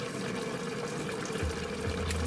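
Three and a half cups of water pour into the stainless steel inner bowl of an Instant Pot over brown rice, making a continuous close splashing stream with no talking.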